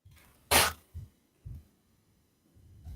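A single sharp sneeze bursts out, loud and close, followed by a couple of soft low thumps and quiet breathing.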